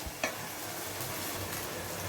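Tomatoes are stirred and mashed in a hot frying pan while cooking varagu rice khichdi, giving a steady sizzle and light spoon scrapes with one sharper tap near the start.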